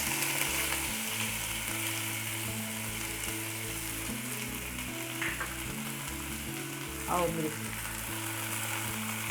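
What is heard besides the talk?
soya kebab ingredients frying in hot oil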